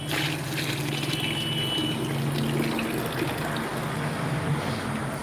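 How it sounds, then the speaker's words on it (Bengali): Collected rainwater that had pooled under a tree being poured into a bucket, a steady continuous splashing trickle heard close up throughout, with no talking. "ওই জলটা আমি এখন এরকম করে এই বালতিটায় রেখে দেবো"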